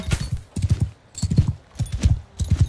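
Galloping horse hooves in Mount & Blade II: Bannerlord, ridden during horseback archery, drum out rapid clustered clip-clop beats in four quick bursts, close and fairly loud, with no talking.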